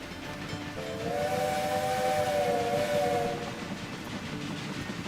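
A steam train whistle in the video game Railway Empire 2 blows in a long sustained tone for a couple of seconds over a steady hissing, chuffing background.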